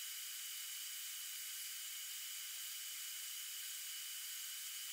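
Hot air rework gun blowing steadily at 470 °C with 99% airflow, used to replace a port on a faulty Xbox One S console; a constant close airy hiss with no breaks.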